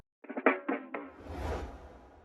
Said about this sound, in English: I use this snare or drum roll and this simple riser